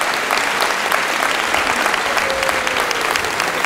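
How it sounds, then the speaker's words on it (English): Audience applause at an elementary school award ceremony, a steady, dense clapping from a sizable crowd that fills the whole stretch at an even, loud level with no break. "Let's give mom and dad a nice round of applause."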